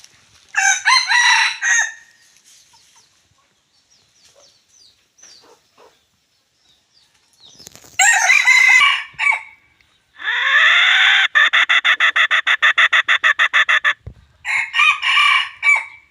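A Thai rooster crows loudly and close by in several bursts, with a wild-fowl-like long, ragged call in the middle and a shorter crow at the end.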